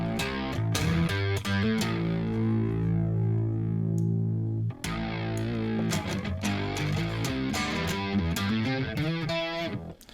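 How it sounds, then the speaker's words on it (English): Electric guitar played through MIDI Guitar 2 software with an octave effect and heavy distortion: thick, buzzing sustained notes and choppy strummed chords, close and loud with no talking. "It sounds also very good when you put distortion on it."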